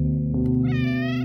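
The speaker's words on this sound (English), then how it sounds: "Oh, listen to the cats." Several cats meow in the video game OneShot, their high, drawn-out cries rising clearly over a steady low electronic hum from the game's background.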